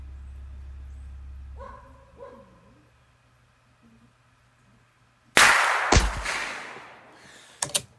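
A Cricket 6061 rifle fires two sharp, close shots, one loud crack after a quiet stretch and a second shorter report near the end, with faint background noise in between.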